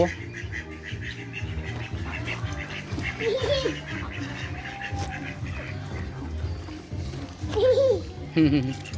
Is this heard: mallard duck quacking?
yes